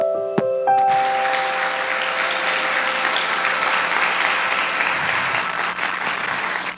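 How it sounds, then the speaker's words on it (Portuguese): A church congregation applauds during a worship service. A brief tonal sound fades as dense, steady clapping rises and holds evenly for several seconds. "e aplaudir a palavra do Senhor."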